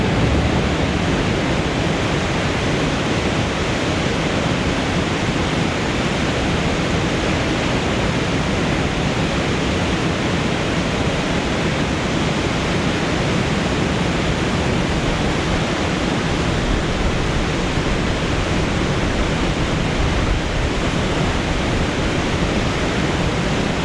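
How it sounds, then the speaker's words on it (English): A steady, loud roar of rushing water from a waterfall in Norway fills the whole stretch, constant and unbroken with no voices. "because of the sound of this waterfall"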